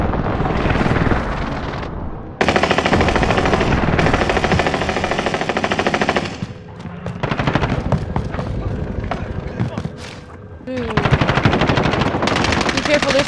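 Heavy video game gunfire in a battle royale resurgence match: sustained bursts of automatic weapon fire from several sources, loud and dense, with pauses and a lull before the shooting picks up again.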